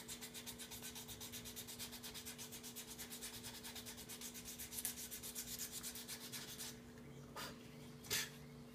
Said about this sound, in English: least favorite part about making a spoon is sanding this